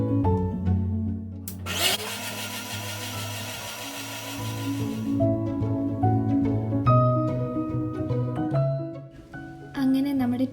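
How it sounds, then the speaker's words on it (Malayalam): A mixer grinder whirs loudly as it blends peeled tomatoes into a paste, the motor surging up partway through and holding a strong, steady whine before easing back, with softer clatter and background noise around it. "തൊലി മാറ്റിയ ടൊമാറ്റോ ആണ് നമുക്ക് മിക്സിയിലിട്ട് അടിക്കാം."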